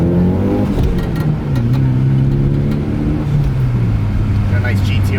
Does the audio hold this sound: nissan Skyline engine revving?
yes